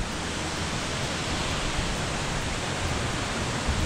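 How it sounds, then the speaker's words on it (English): Continuous rushing water, a steady broadband roar like a stream and waterfall nearby, unchanging throughout with no voices. "how well y'all can hear with the stream and the waterfall going in the background"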